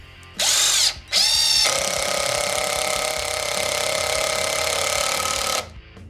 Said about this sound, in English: Now we'll go ahead and bump that up to speed mode 2 and drive another one that is identical right next to it.